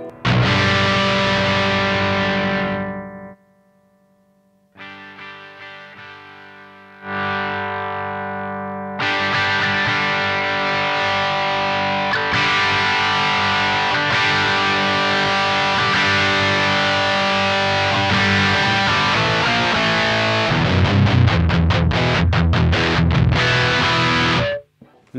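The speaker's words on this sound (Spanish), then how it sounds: "Vamos al potenciómetro de drive para que escuches cuál es el rango de distorsión que tenés con este módulo." Electric guitar played through a Synergy Mesa Boogie Mark IIC+ clone module with the drive raised, giving loud sustained distorted chords and notes, with brief pauses between phrases and a fast chugging burst near the end.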